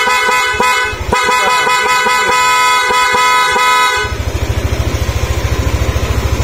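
A dual horn on a Yamaha Nmax v2 scooter blares in loud, close honks, first in several short bursts and then in a long sustained blast over a running engine.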